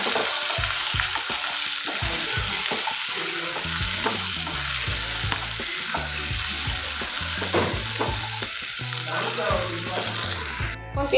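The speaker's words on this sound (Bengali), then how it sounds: "তো এখন ভালো করে পেঁয়াজটা ফ্রাই করে নেব, একদম লো ফ্লেমে করবো" Onions fry gently in oil over a low flame, a close, steady crackling sizzle with scattered pops running throughout.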